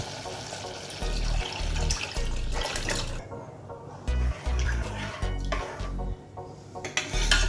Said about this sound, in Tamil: இப்போது நான் திக்காக காய்ச்சின 1/2 லிட்டர் பால் ஊற்றிடலாங்க